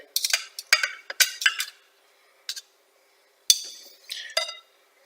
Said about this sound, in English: I'm going to just cut them into cubes, like such.